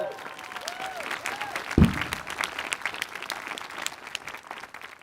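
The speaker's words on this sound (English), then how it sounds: "Yeah, now you can clap." An audience at the 2025 USC School of Architecture commencement ceremony claps steadily and at length, dense applause filling the hall with a sharp thump partway through and a voice briefly audible.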